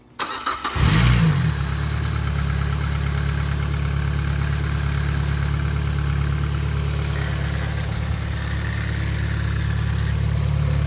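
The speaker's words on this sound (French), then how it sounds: "Puis il va falloir essayer de démarrer." A Peugeot 206 petrol engine with newly changed spark plugs cranks briefly and catches, then settles into a loud, steady idle heard up close for the rest of the time, with no talking.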